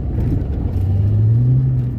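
Fox body Mustang with a limited-slip rear end spinning out while sliding, its engine roaring loud and close with a rising, sustained tone and a deep rumble throughout.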